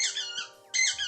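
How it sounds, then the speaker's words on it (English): A dog's squeaky toy squeezed twice in quick succession, loud and close, its bright high squeals rising and falling with a short gap between, heard indoors with no talking. "has rediscovered his squeaky toys, and he is overly excited about them"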